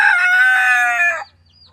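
A young chicken, probably a rooster, crows loudly and close in a backyard chicken run, one sustained cry that breaks off abruptly into quiet.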